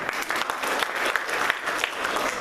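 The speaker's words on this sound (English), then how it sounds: "Here an applause." An audience breaks into dense, sustained applause at a gathering, many hands clapping close and steadily with a few sharper claps standing out, no talking heard.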